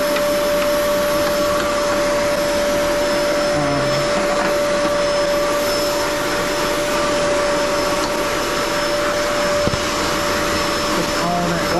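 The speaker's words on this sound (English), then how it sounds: "So I'd say vacuuming is kind of step one." A vacuum cleaner runs steadily up close, sucking dust off an Airstar 22 with a constant loud whine and a sustained tone that barely shifts over the whole stretch.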